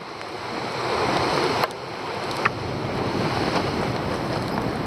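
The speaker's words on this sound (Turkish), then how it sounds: "Deniz kabarıyor. Yağmur sallıyor ara ara." Rough sea surf surges and crashes in a continuous roar on Turkey's Lycian coast in rain, mixed with gusting wind buffeting the microphone and a couple of sharp knocks.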